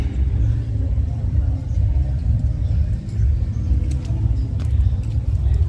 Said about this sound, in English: And there's the green tractor.